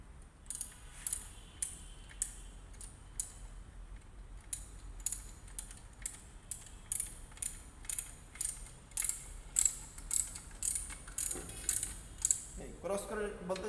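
A ratchet wrench clicks in short repeated bursts while clutch pressure plate bolts are tightened in a crisscross pattern. The close, sharp ratcheting comes in a steady rhythm, and heavier metallic handling follows at the end.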